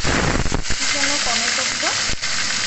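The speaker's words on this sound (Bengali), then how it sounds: "ওই তেলের মধ্যে আমি জিরে ফোড়ন দিয়েছি" Cumin seeds crackling in hot oil, a loud, dense sizzle with a couple of sharp clatters; faint voice-like tones float briefly underneath.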